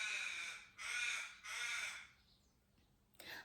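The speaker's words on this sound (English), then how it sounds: "Oh, these crows are noisy today," Crows caw outdoors, three loud, harsh calls in a slow sequence followed by a fainter fourth, heard from a distance through an indoor room.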